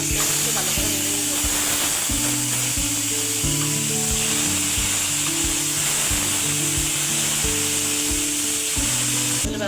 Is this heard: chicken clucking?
no